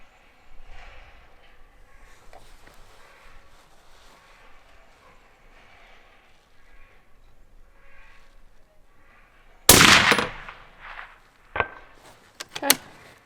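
Rifle shots fired at a distant target on an outdoor range, heard as one loud sharp crack followed by a few fainter, shorter reports after a stretch of low ambient background.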